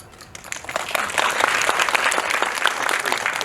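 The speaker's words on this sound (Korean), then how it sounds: "정말 다시 한번 좀 박수 드리고 싶습니다" An audience at a Korean film screening Q&A for the movie 'Yuchetalja' applauds, the clapping swelling after a quiet start into dense, steady applause from a full hall.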